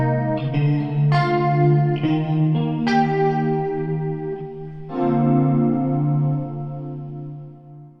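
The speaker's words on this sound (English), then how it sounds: "It needs a little extra reverb and delay," Electric guitar through a Yamaha SPX 90 pitch-change preset with added reverb and delay, driving EVM 12L speakers: a few ringing chords with a chorused shimmer, each one swelling and then trailing off into a long echoing tail.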